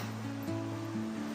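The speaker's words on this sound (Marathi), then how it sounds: "ये देखो नदी" River water rushes in a steady, broad wash, with a low tonal hum running underneath.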